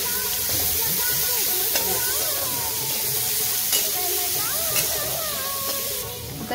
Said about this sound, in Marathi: कारलं घालून थोडेसे परतून घेऊया।